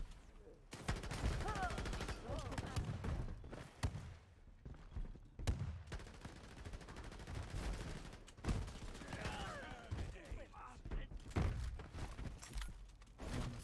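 Gunfire from a shooter in the Shatterline game, with repeated loud bursts and single shots coming in clusters over busy combat sounds throughout.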